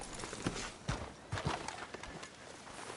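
Horse hooves clip-clop in Red Dead Redemption 2: a faint, steady run of hoofbeats at walking pace, about one every half second, under a broad background wash with no clear talking.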